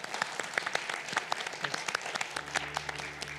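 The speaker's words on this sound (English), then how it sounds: "a round of applause to our esteemed panelists, ladies and gentlemen." At a plenary session on the creative economy, a conference audience applauds the panelists with a sustained scatter of claps at moderate distance. A low hum joins partway through.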